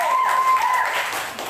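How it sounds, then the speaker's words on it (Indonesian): Applause from a classroom of students fills the room, a steady, dense patter of many hands clapping at moderate volume for a short stretch. "Berikan tepuk tangan untuk Wulan."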